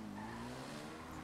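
A dirt bike swerves and skids in GTA V FiveM, its tires squealing against a steady, droning engine tone. The sound stays faint and continuous for just over a second.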